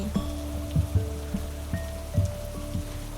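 Steady rain falls outdoors, with scattered heavier drops tapping on a surface over an even wash of rainfall, close and continuous with no voices.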